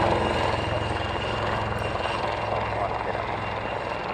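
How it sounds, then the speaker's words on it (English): An Airbus A400 turboprop transport aircraft drones with a steady, loud engine roar throughout, broad and continuous, with a radio or voice faintly present underneath. "you can hear that A400"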